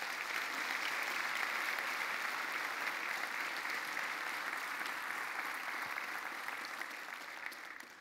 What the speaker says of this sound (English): could we give a big hand of applause to Danny Neave?